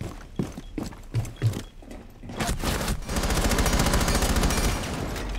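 Rapid video-game gunfire from Rainbow Six Siege: a few scattered close shots, then a dense, continuous burst of automatic fire that sustains loudly to the end.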